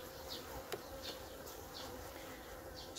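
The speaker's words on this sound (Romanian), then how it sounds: "Iată ce de albină stă aici după diafragma" Honey bees buzzing around a hive as it is arranged for winter, a steady, faint hum with individual bees passing close by now and then.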